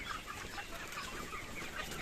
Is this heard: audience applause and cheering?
no